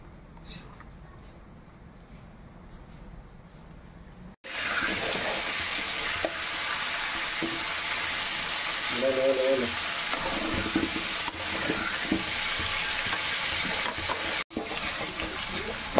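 Mutton curry fries in a pan with a loud, continuous hiss and crackle, a brief stirring clatter partway through, after a quieter opening stretch.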